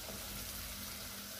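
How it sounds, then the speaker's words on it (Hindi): A tadka of butter and spices for sarson ka saag sizzles steadily and loudly in the pan, a continuous frying hiss with no voices. "ठीक है बस तड़का भी तकरीबन हो चुका है हमारा तैयार।"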